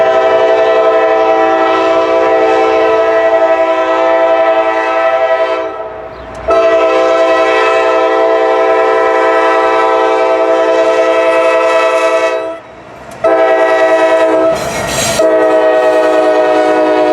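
Freight train 18M on the Sandusky District at Cook Road sounding a loud, sustained horn in long blasts with short breaks, rumbling and clattering past close by.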